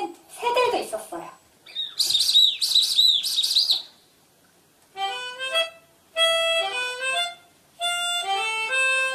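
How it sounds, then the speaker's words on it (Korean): Bright, close birds chirp in separate bursts of rapid twittering and repeated melodic call phrases, with short silent gaps between them. "그리고 저 하늘을 자유롭게 활활 나는 새들도 있었어요."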